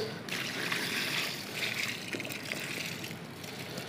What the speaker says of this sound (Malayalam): അപ്പോൾ നമുക്കൊന്ന് നനച്ച് കൊടുക്കാം കേട്ടോ.